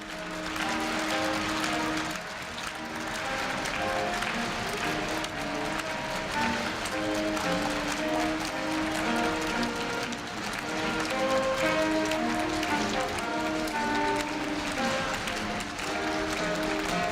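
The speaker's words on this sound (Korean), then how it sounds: "끊임없는 환송의 박수 부탁드립니다" Sustained applause from a large audience at a Korea University freshman entrance ceremony in 2015, steady and dense throughout as the university president and academic officials exit the hall.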